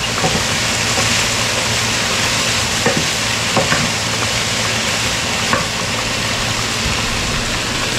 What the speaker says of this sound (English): You can see the potatoes being stirred up.